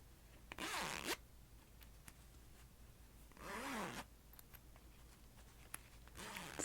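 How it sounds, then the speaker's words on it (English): A green zipper on a fabric bag with white flowers on a green background is drawn open in three quick, soft strokes, close by in a very quiet room, with faint handling rustles between pulls. "It's so interesting how different zippers really do have very different sounds."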